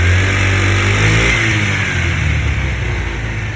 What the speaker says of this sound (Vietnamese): Đây mình nghe tiếng bô.